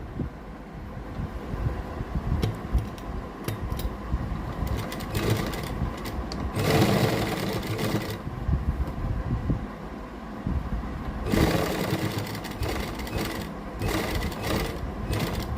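A sewing machine stitches a garment's shoulder seam in two clear bursts of rapid whirring, with quieter handling and fabric movement between them.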